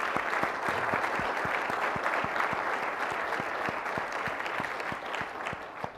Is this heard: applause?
yes